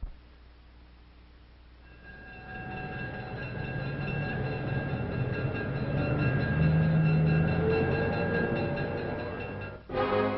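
A train runs along the line, its steady rumble swelling from a quiet start into a sustained, fairly loud roll with tonal hum running through it, then cutting off abruptly near the end.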